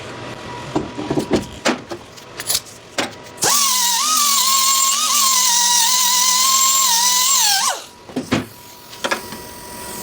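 An angle grinder runs steadily for about four seconds, filing down a lip on a rusted car door shell. The whine holds a strong, even tone and stops abruptly, with scattered clanks and handling noises of metalwork before and after.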